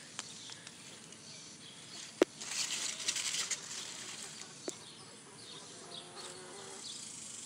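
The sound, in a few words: bumblebee buzzing in a garden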